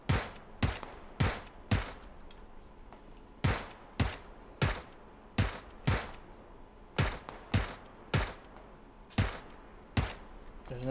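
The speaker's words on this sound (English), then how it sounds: "I'm just shooting blindly." Video game gunfire: a steady series of sharp single shots, about one per second, each cracking loudly and then decaying briefly, fired blindly in a squad shooter match with no talk.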